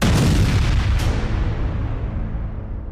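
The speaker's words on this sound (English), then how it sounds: "Finally detonating in a glorious explosion of light." A loud, deep explosion booms at once and rolls away into a long rumbling decay.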